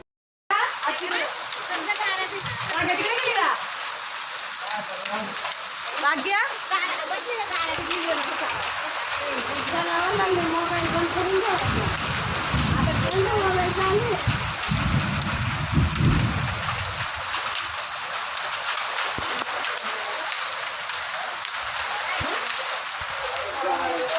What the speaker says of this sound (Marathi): गारांचा पाऊस चालू झालाय आज